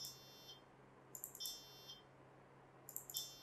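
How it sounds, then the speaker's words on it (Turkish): An electronic buzzer sounds a G4 note in two short bursts of quick, high-pitched beeps, fairly faint, with quiet background hum between them. "Buzzer ses çıkar kodunu aldım."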